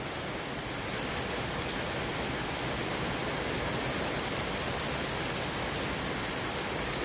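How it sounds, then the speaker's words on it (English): Heavy, steady rain during a thunderstorm, a dense continuous hiss of drops with no pauses and no voices throughout. "Love the sound of the rain."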